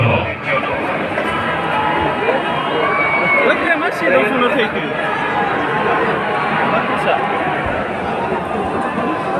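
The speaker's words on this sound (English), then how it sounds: "the crowd seems to be very excited" An excited crowd at an ISPF sports event in Bodoland Territorial Region cheers and chatters in a continuous dense roar, loud and sustained throughout.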